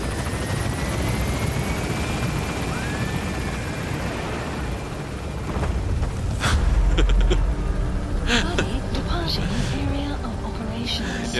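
Helicopter rotor thump and engine drone from Metal Gear Solid V, steady and loud throughout while it climbs away under fire, with voices talking over it.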